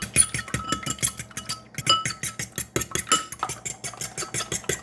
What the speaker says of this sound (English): Now you whisk these eggs.